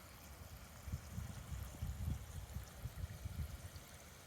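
Water running over rust-treated bolts from a 4x4 chassis restoration, a faint steady trickle and splash with irregular low bursts, quiet and close.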